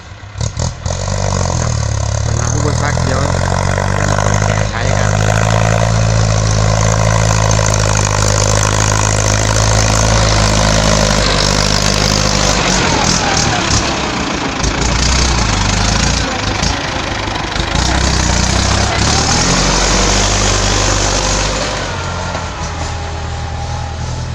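A loud, partly repaired farm tractor engine runs steadily nearby, a rough rumbling idle with clattering and occasional revving, continuing throughout without any voices.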